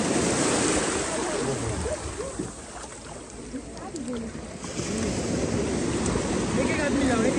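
Ocean surf washes steadily onto the beach at Malvan, a broad continuous roar of breaking waves with wind buffeting the microphone, while people talk faintly over the water.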